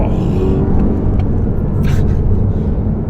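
A 2020 BMW M5 Competition is driven flat out uphill, its engine note a loud, low, sustained roar heard from inside the car, rising steadily with faint wind and road noise.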